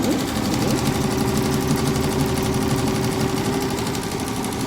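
An Usha 450E sewing machine stitches decorative work on a saree in a steady, continuous mechanical whir with a fast needle rhythm, close and fairly loud throughout.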